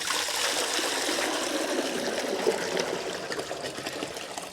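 Salt water pours steadily into a home fish tank, a continuous splashing trickle that stays fairly loud and even throughout, with no voices over it.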